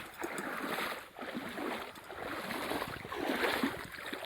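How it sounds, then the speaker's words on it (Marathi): Swollen river after heavy rain, a strong continuous rushing of water with steady broadband roar, close and loud throughout, no voices. "झाडं पण किती मोठं पाण्याचा प्रवाह कसा चालला आहे"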